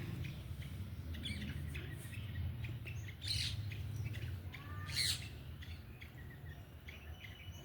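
Birds squawk and chirp around a rooftop garden, scattered short calls over a steady low outdoor hum, moderately near and fairly faint.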